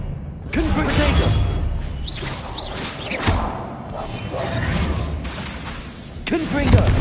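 Confringo blasting spells in Hogwarts Legacy fire off as whooshing magical bursts and thudding impacts, with heavier blasts near the middle and the end, under a busy battle mix and shouted voices.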